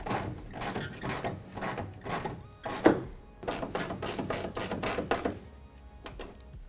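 Screws are driven to fasten an F-150 taillight to the truck bed, giving a series of short, close ratcheting and whirring bursts with brief pauses between.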